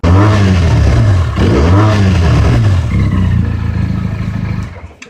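A Bajaj Dominar 400 motorcycle engine revs hard and loud through twin exhausts with a deep, throaty note, rising and falling twice before settling into a rough, steady rumble that cuts off.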